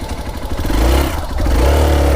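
A motorcycle on a road trip rides up close to be parked, its engine rumbling loudly and rising in a brief rev before settling, with no talk.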